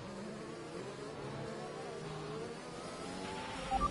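An F1 race car engine in a video game at Spa drones steadily at moderate volume, a continuous motor whine with a faint rise in pitch, fairly distant and without speech.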